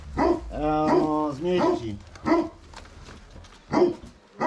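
A big dog barks several times in separate bursts, loud and nearby, with a brief whining stretch, and a person says a single word between the barks.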